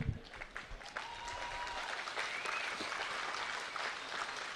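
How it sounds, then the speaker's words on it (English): Audience applause at a liberty-themed talk fills the room, a steady wash of many hands clapping throughout, with a brief louder burst at the start and no talk over it. "You like that? Good, you can clap."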